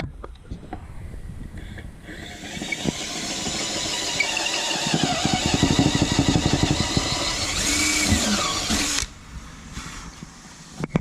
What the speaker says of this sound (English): we'll drill that hole out so I can get this plug in there.